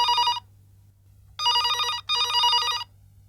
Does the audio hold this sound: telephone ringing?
yes